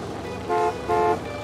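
Car horn honking twice in the Gas Station Simulator video game, two short loud toots in quick succession over a low background hum.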